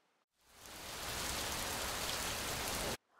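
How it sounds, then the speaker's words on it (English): Rain pours down in a steady, dense hiss that swells in quickly, holds evenly for a few seconds, then cuts off abruptly; it sounds close but soft overall. "as the rain poured down, they raced back to the village"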